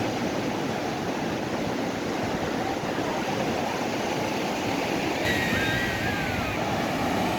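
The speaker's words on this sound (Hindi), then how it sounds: "ये पानी का शोर है। कितनी तेज़ लहरें आ रही हैं।" Ocean waves at Puri beach, India, roar steadily onto the shore in a loud, continuous rush of surf, with wind noise blowing across the microphone.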